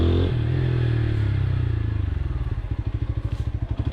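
A 2025 TVS Apache RTR 160 4V TFT Special Edition motorcycle rolls over large speed breakers. Its close engine drones steadily, then breaks into a rapid rhythmic chugging pulse as the bike bumps across.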